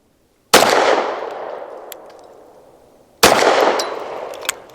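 Two sharp, loud pistol shots from a Bersa M2XI firing Hornady American Gunner 124 grain rounds, spaced about three seconds apart, each with a long ringing outdoor decay.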